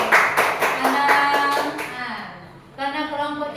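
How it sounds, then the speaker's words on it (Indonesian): A group of children claps in a quick, steady burst, then a voice speaks briefly as the clapping fades. "kita beri tepuk tangan untuk kelompok 3"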